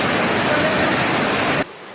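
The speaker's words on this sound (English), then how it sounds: "The Galnava Kalankutia reservoir in the Mahavali H zone is also discharging water." A reservoir at Galnava Kalankutia in the Mahaweli H zone discharges floodwater, a loud continuous rushing torrent heard close up with no voices, ending in a sudden cut.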